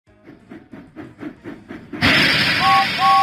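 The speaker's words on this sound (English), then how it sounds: "James puffed proudly into Knapford Station." A cartoon steam engine in a Thomas & Friends video game chuffs in a steady run of about seven puffs, then a loud hiss of released steam takes over with short whistle tones on top.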